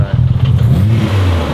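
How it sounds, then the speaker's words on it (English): A Nissan GT-R with an RB engine revs loudly and close, its deep droning note climbing and falling in pitch with a slight mechanical clatter. "But I feel like this is classic RB JDM sound."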